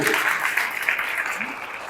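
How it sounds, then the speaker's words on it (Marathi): A hall audience at a devotional music program claps in a brief burst of applause, with a voice partly audible over the clapping. "जोरदार टाळ्या वाजल्या पाहिजेत."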